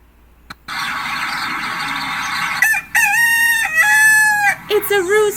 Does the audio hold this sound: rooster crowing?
yes